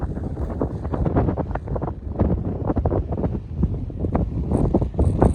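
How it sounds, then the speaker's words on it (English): Gusty wind buffets the microphone on an exposed hilltop near an old quarry, a loud, rough, continuous rumble that surges and eases in uneven waves. "That wind is certainly picking"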